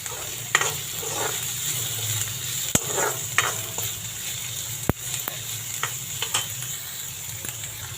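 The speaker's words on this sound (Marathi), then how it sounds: "दोन चमचे तेलावर कांदा भाजत टाकला" Chopped onion sizzles in two spoons of hot oil in a pan while cooking masala for a fish curry, with a steady crackle broken by sharp scrapes and clicks of stirring.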